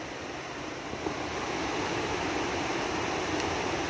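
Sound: Tad Sadi waterfall rushing water, Sepon, Laos

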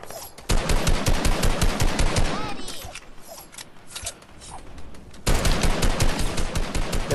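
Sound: gunfire from a fight in video game Fortnite

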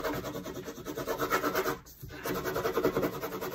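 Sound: bone folder rubbing paper to transfer graphite onto linoleum

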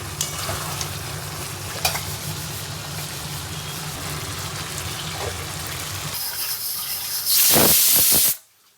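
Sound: stirring marinated mutton in a pot

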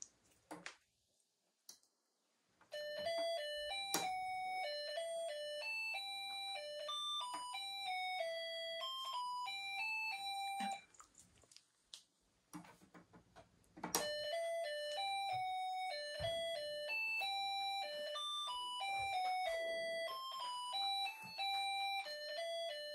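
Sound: Snap Circuits Jr. toy circuit playing a doorbell sound

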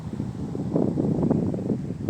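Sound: wind blowing outdoors

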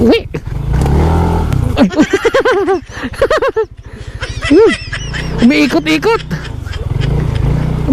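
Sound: ducks quacking

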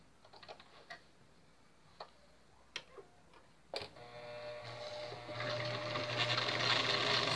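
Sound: sewing machine stitching side seam of a puppet

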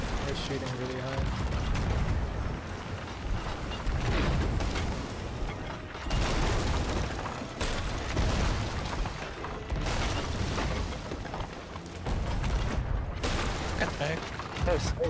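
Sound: cannon fire from enemy ship in Sea of Thieves video game

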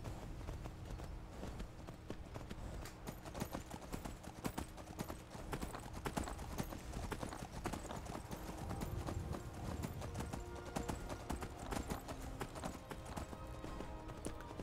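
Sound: horse hooves in Skyrim video game

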